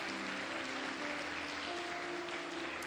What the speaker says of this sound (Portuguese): Você pode aplaudir o Senhor com fé,